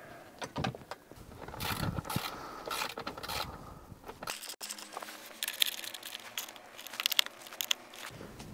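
A socket wrench ratchets and clicks while tightening screws on a rotating screen mount in a Tesla Model Y/3, with irregular close mechanical clicks, crunches and handling noises.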